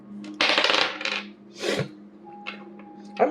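Dice are rolled and rattle across a hard surface in several bursts: a long clattering tumble, then shorter clicks and skitters, close and distinct, with a faint tone underneath.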